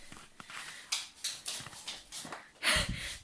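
A dog sniffs and snuffles at a food enrichment toy nearby, short bursts of nasal breathing and rustling in an irregular rhythm, fairly quiet.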